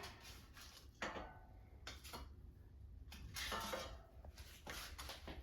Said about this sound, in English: Let me take it out of the air fryer.